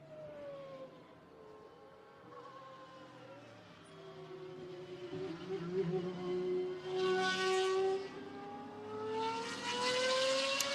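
GT race cars lapping the Nürburgring circuit in a sports club session, their engines heard at a distance as rising and falling tonal whines that sweep past one after another, growing louder toward the end.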